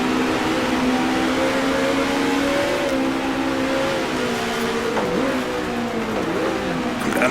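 Race car engine from the 1966 Australian Grand Prix in the Grand Prix Legends racing game, revving steadily in fourth gear through corners, loud and continuous with pitch rising and dipping as it snakes along.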